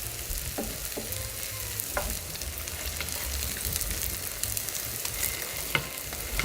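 Grated potato pancake frying in a pan over medium-low heat, a steady close sizzle with light crackles and occasional scrapes, no talking.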